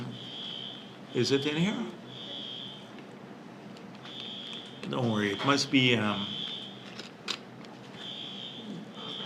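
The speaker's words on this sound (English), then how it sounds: "a fire alarm." A fire alarm sounds at a press conference, giving a steady high electronic tone that runs through the whole stretch while people talk over it.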